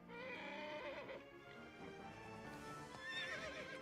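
A horse neighs loudly in Kingdom Hearts 3, with clip-clopping hooves and game music running continuously through the whole stretch.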